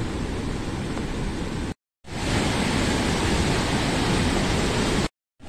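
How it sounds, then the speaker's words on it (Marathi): Heavy monsoon rain pours down with rising flood water rushing at a bridge over a Konkan stream: a loud, dense, steady roar that cuts out briefly twice. "पाणी वाढतच हा, आणि पावसच असो लागलो मुसळधार"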